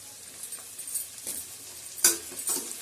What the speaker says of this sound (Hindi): मैं इसमें 3-4 हरी मिर्च डाल रही हूँ